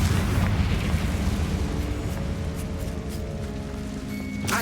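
A Confringo fire spell explodes in the video game Hogwarts Legacy, a loud rumbling blast that rolls on as a continuous crackling boom and slowly fades over several seconds, ending with a brief bright flash of sound.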